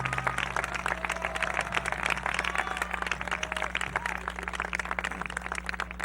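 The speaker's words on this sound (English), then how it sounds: "Would you join me in applauding them?" Audience applause for retiring teachers at a high school graduation commencement ceremony, a steady dense patter of many hands clapping at moderate level, with a low hum underneath and faint voices mixed in.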